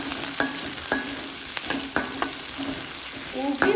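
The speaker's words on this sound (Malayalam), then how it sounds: "പച്ചമുളക് ഇട്ട് ഒന്ന് വഴറ്റി കൊടുക്കുക കേട്ടോ." Green chillies and ginger sautéing in oil for a Kerala snack, with a steady sizzle broken by several sharp scrapes and knocks of a spoon against the pan, close and clear, with no talk.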